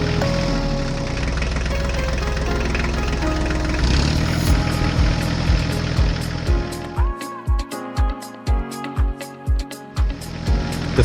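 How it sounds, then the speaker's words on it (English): Two farm tractors' engines rumble steadily at close range as the machines slowly roll out of a big garage, with a low thrumming that turns into rhythmic chugging pulses. "the sound of engines fills the air as both machines slowly roll out of the"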